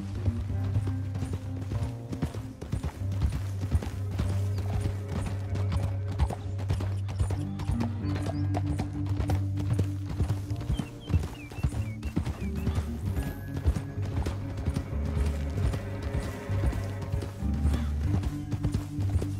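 Steady hoofbeats of galloping horses in the video game Red Dead Redemption 2 pound on under a thick, continuous bed of music and rumble, with an occasional faint whinny.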